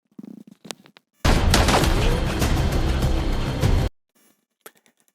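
Loud, dense burst of gunfire from a cartel shootout in an action film, sustained rapid shots and booms for about three seconds, framed by quieter scattered sounds before and after.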